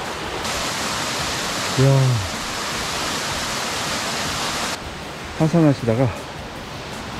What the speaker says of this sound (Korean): 폭포가 굉장히 멋있습니다